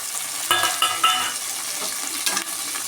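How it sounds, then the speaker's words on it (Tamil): Green beans and green peas sautéing in oil on low heat for a vegetable pulao, a steady soft sizzle with a few sharp stirring scrapes near the start and end, no voices. "அடுப்பை சிம்மில் வச்சுட்டு எண்ணெயிலே நல்லா வதங்கட்டும்."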